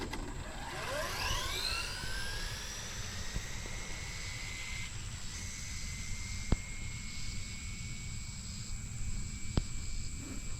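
A Traxxas Drag Rustler RC car makes a full-throttle speed run on a street, its electric motor whine rising steeply in pitch over the first two seconds and then holding a steady high tone against constant outdoor noise.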